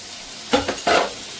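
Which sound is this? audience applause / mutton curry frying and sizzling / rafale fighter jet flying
mutton curry frying and sizzling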